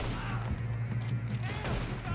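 Gunfire in the video game Red Dead Redemption 2 during a train heist, a dense, muffled volley of shots rolling continuously under a steady low rumble, fairly quiet and distant-sounding.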